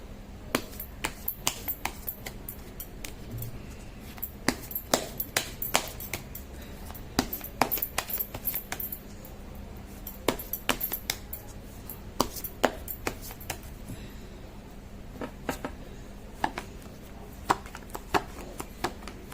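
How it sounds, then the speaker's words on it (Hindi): Tarot cards are shuffled close by, a steady run of soft, crisp card slaps and clicks repeating irregularly over a low background hum, with no talk. "कर लेती हूँ कार्ड की शफलिंग।"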